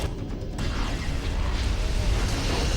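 An explosion spell in the video game Summoner 2 erupts with a sudden dense roar after a brief pause, a loud sustained rumbling blast that fills the rest of the moment without speech.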